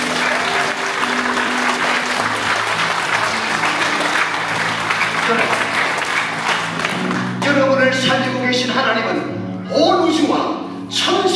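A church congregation at a Korean church gathering in Wrocław, Poland claps together with sustained dense applause, with a held tone beneath it, then a voice speaks over the fading clapping near the end.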